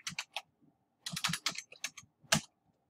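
Someone types on a computer keyboard, with quiet, close, quick key clicks coming in short irregular bursts separated by brief pauses.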